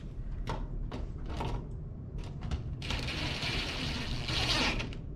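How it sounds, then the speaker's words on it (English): A school roller window shade being closed, giving a continuous mechanical whirring and rattling with a few clicks, steady and close. "I'll close the window back up."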